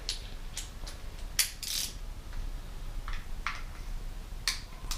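Torque wrench tightening ignition coils to 10 Nm on a Porsche Boxster 986, giving sharp ratchet clicks in short bursts with gaps between them, close and moderately loud.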